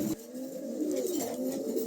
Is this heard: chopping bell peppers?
no